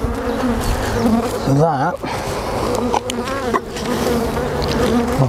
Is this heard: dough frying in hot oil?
no